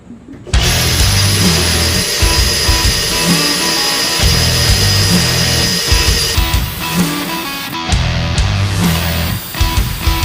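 A power drill bores through a heavy vehicle frame during an air suspension install, a loud, high whining grind that holds steady for several seconds, dips briefly, then resumes.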